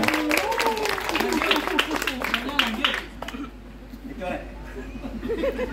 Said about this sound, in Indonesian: Tepuk tangan buat mereka juga.